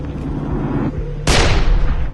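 A single gunshot rings out in Far Cry 3 as the villain Vaas fires, a sharp loud crack with a decaying tail after a stretch of low rumbling background.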